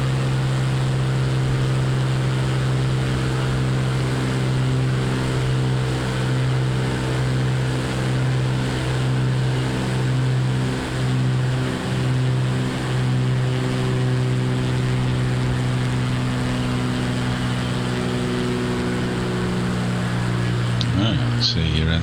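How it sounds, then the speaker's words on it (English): Four-engine aircraft in Microsoft Flight Simulator drones steadily and loudly throughout, a constant multi-engine hum with layered tones. "the 4 engines in my ears are a little bit noisy"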